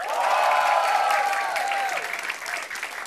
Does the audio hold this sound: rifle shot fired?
no